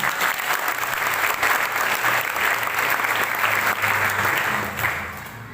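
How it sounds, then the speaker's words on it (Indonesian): Church congregation at a Mother's Day Christmas service applauds the mothers, a steady, full round of many hands clapping that carries evenly before easing off near the end, with a low hum underneath. "tepuk tangan untuk ibu-ibu kita yang hebat."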